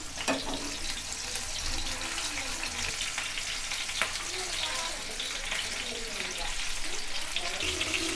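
Fish frying in a pan for a Tamil-style fish fry (meen varuval), a steady, close crackling sizzle of hot oil that runs the whole time with faint clinks as pieces are turned.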